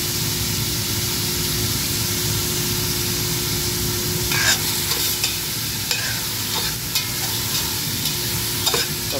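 Bottle gourd sautés over a low flame for lauki halwa, a steady soft sizzle and hiss running throughout, punctuated by several spoon scrapes and stirring clatters in the latter half.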